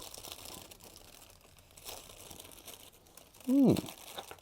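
Crinkly packaging pulled away from a Heljan Ruston 165DE model locomotive during unboxing, soft close rustles and crumples building to a louder crinkle burst near the end.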